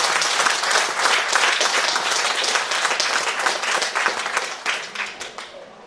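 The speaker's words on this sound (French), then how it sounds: "Je vous demande de les applaudir" An audience applauds newly elected officials at a municipal investiture ceremony in Anse, steady dense clapping from a crowd that gradually thins and fades toward the end, with no talk over it.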